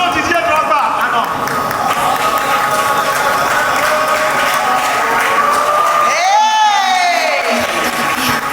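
A large audience at a corporate anniversary party in Paris cheers, whoops and applauds as a mystery guest arrives, loud crowd noise filling the clip with music and a swooping tone near the end.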